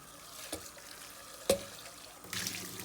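Goat milking equipment is rinsed under a running tap, with a soft steady water flow, a few clunks of handling, and a louder gush of running water toward the end.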